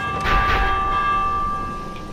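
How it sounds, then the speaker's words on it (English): A warning bell in the video game Minecraft Dungeons rings once with a bright metallic strike, its steady tone sustaining and slowly fading over about two seconds, with no talk. "Ring the warning bell."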